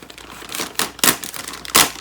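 A knife slicing and tearing into a plastic bag up close, with several crinkly scrapes and three sharper rips spread over about two seconds.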